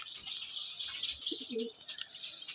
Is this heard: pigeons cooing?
yes